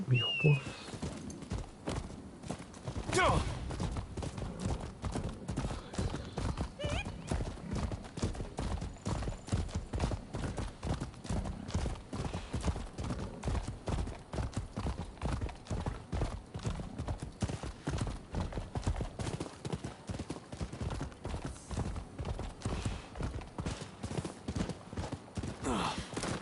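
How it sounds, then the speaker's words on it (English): Horse hooves clip-clop at a steady trot in the samurai action game Rise of the Ronin, a fast rhythmic beat of hoofbeats that runs throughout under occasional game sounds. "Horse."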